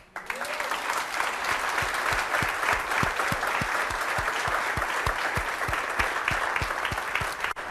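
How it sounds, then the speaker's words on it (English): A crowd applauds as a round of approval for a model shown to an audience, dense sustained clapping with sharp individual claps standing out, loud and continuous for several seconds before cutting off abruptly. "by sound of a round of applause"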